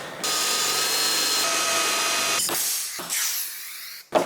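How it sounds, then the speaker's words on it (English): A power drill bores two holes for a taillight bracket on a Polaris AXYS snowmobile. A steady high whine runs for a couple of seconds and breaks off, then a shorter second burst follows, with clanks at the end and no talk. "Drill the two holes."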